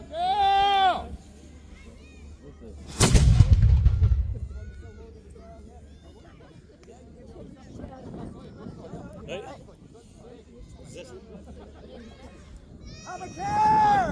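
A single loud historic fort cannon blast booms out, a sharp burst with a rumbling tail, framed by excited voices and crowd noise before and after.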